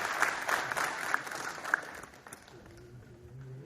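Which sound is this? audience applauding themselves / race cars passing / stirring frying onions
audience applauding themselves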